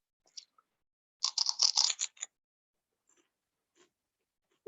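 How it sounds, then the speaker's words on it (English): Teeth bite into a crunchy toy ice cream cone up close, a short cluster of crisp crunching chews lasting about a second, with a few faint clicks and silence around it. "I'm just going to bite the cone to see what it tastes like."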